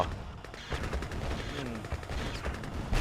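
Vehicle gunfire in the Red Alert 2 battle game, rapid overlapping bursts of shots and impacts running throughout, with game effects layered beneath.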